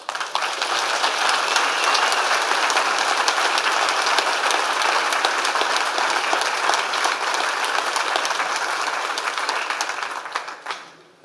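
Sustained audience clapping fills a committee meeting room, a dense steady roar of many hands lasting about ten seconds before tapering off quickly at the end.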